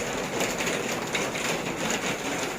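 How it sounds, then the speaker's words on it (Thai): Heavy rain pours down on a house with no awning, a loud, continuous roaring hiss that stays steady throughout with no voices. "ฝนตกมากอะเปียกแน่ค่ะ"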